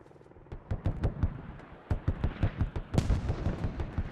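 Gunfire rattles against an LAV-25 armored vehicle in the military game Squad, rapid bursts of sharp cracks and thumps at mid distance, irregular and clustered, swelling louder toward the end.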